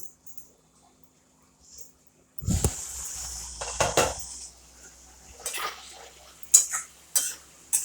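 A lid is lifted off a pan of cooking ridge gourd and potato dry vegetable, then a spoon stirs and scrapes the pan with close metallic clinks and clatters, and no one talks.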